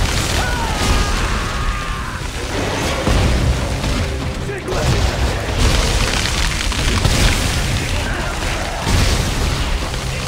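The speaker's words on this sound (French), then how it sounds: "Grenade." A grenade blast in the sci-fi horror shooter Dead Space 3 booms during dense co-op combat, with steady game noise and a low rumble throughout.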